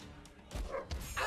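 A cartoon dog in a South Park video game barks two or three quick, close yips in a short burst, with no talk over them.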